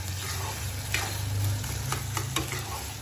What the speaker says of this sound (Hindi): अब टमाटर मटर सब भून चुका है अच्छे से